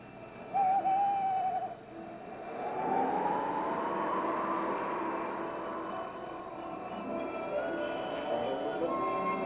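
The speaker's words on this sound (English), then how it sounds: "That's just an owl." An owl hoots once, close and clear, outdoors at night at a campsite, followed by a long swelling whoosh of wind.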